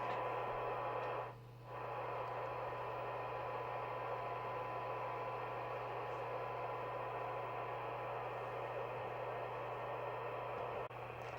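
A World Sound PT40 UK CB27/81 mobile CB radio, RF gain at full, receives a signal generator's tone as a steady hiss and low hum, with a brief dip near the start, faint and unbroken.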